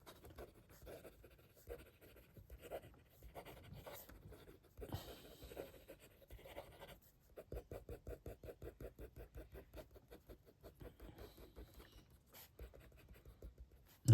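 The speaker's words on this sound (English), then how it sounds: "Fast writing." Kaweco Brass Sport fountain pen nib scratching quickly across paper in fast handwriting, a faint, close, rhythmic patter of short strokes with brief pauses between words.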